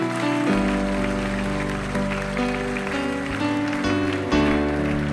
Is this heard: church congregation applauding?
yes